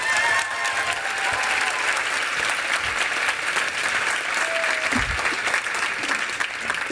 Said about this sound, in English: let's give them another massive round of applause